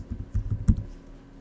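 Quick burst of several keystrokes on a computer keyboard as a user name is typed, close and crisp, then trailing into quiet.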